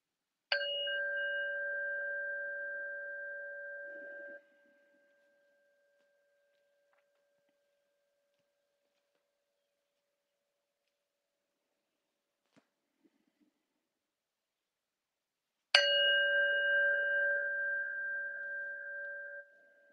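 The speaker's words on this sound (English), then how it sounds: "I'll close our practice with two sounds of the bell." A meditation bell struck twice to close a practice, each strike a clear sustained ring that decays slowly, separated by about ten seconds of near silence.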